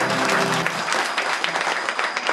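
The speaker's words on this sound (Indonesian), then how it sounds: "Tepuk tangan untuk RA Rosan Al-Fikr." An audience applauds at a Father's Day school event, a dense continuous clapping throughout, loud and close.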